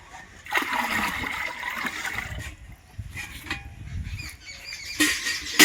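Jaggery water poured into a jivamrut mixture containing gram flour, a close, splashing and gurgling pour that runs in uneven bursts, swelling louder toward the end.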